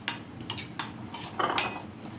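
Dry ajwain and gram flour being stirred with a spoon in a bowl for crispy bhindi, giving a few short scraping, clinking strokes at a quiet, close distance with no talk.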